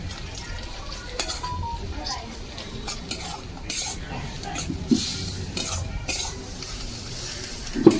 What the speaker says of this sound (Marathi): आता भाजी जी आपण मगाशी उकळून घेतले भारंग्याची, ती पिळून ह्याच्यात टाकायची तेलामध्ये कांद्यामध्ये.